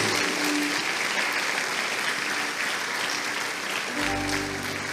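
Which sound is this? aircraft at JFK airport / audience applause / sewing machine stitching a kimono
audience applause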